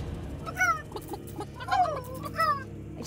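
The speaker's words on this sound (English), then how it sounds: "I just need to hear these chickens." Chickens in the VR rhythm game RagnarockVR cluck in short, bright bursts, three or four calls in quick succession, close and clear over a low background hum.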